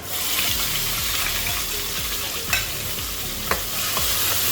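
Four chopped onions fry with cardamom pods, cinnamon sticks and cloves in hot oil, giving a loud, continuous sizzle close up, while a spoon stirs and scrapes the pan in repeated strokes with occasional sharper clinks.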